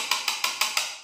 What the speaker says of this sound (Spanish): shamblock de madera